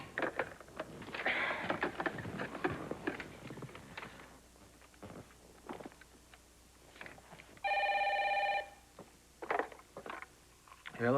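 A telephone rings once with a steady electronic ring of about a second, fairly loud, in the middle of a domestic drama scene, with indoor talk and movement before and after it.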